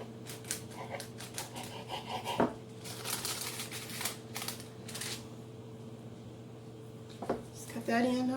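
A knife cuts and trims potato candy dough on a board in a home kitchen, giving soft scraping and chopping taps under a low hum, with a couple of sharper knocks.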